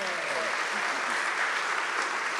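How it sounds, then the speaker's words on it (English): A crowd claps steadily and loudly, dense sustained applause filling the whole moment. "please give a warm welcome, round of applause, to Donick and Bill."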